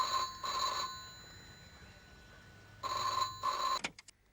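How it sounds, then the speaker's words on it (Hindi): A telephone rings indoors in two bursts of a trilling electronic bell separated by a quiet gap. The ring is moderately faint and is cut off by a clunk as the receiver is picked up. "देखो तो किसका फोन है।"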